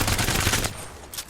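Rapid automatic gunfire from a gun in Apex Legends, a burst of quick shots lasting about half a second that then cuts off, followed by quieter room tone and a faint final knock.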